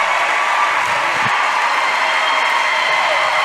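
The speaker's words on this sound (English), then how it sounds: "Listen to the applause." Sustained crowd applause fills a basketball stadium during a grand final game, a dense, even roar of clapping and cheering that carries steadily from start to finish with no break.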